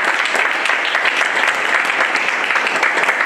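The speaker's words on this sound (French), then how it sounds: "Est-ce qu'on peut acclamer le Seigneur pour son serviteur?" A church congregation bursts into loud, dense applause acclaiming an evangelist, a continuous roar of many hands clapping with a faint crowd murmur.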